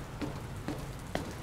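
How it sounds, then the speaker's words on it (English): Rain falls indoors onto computer equipment in a video game, a steady soft patter with a few slightly louder drips standing out, no voices. "Raining on the computer equipment, so that's maybe not great."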